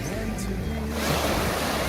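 Waves wash onto a beach in the Andaman Islands, a broad close roar of surf that swells and thickens midway through, heard alone without talk.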